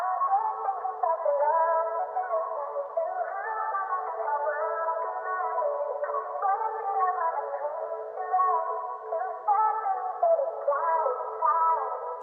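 A sampled vocal plays on its own, a filtered, narrow-band voice singing wavering melodic phrases with an echoey, lo-fi quality.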